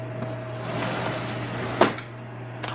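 A house door in a living room area swings and latches with a single sharp knock near the end, heard close over a steady low appliance hum.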